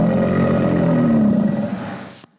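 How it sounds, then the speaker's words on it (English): An alligator gives a deep, loud, continuous rumbling bellow lasting a couple of seconds, close up, fading slightly before stopping abruptly. "The rumble of an alligator."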